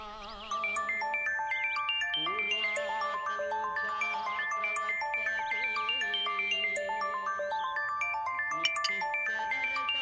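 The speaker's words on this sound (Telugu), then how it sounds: "ఫోన్ రింగ్ అవుతుంది" A melodic electronic phone ringtone plays continuously, bright repeating tones stacked in a tune over low background music, steady and fairly loud throughout.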